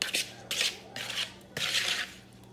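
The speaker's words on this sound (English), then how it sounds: "So now I'm gonna just take my spoon and I'm gonna go ahead and mix it up." A spoon stirs Cajun fettuccine sauce in a bowl, making close, scraping, swishing strokes in four or five uneven bursts with short pauses between them.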